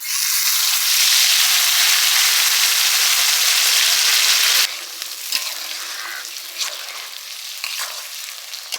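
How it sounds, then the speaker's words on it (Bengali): Tomato, onion and ginger-garlic pastes hit hot oil in a pan for a meat curry, bursting into a loud, steady sizzle that drops abruptly halfway to a softer frying crackle with occasional pops. "তেল গরম হয়ে গেছে টমেটো বাটা পেঁয়াজ বাটা আদা রসুন বাটা একসাথে দিয়ে দিচ্ছি"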